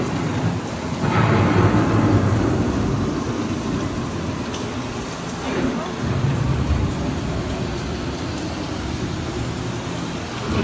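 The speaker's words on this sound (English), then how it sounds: "The approaching storm may seem violent and destructive to us" Thunderstorm effect on an Epcot ride: deep rolling thunder rumbles over a steady wash of storm noise, swelling after the first second and holding loud and close throughout.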